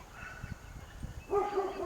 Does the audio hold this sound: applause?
no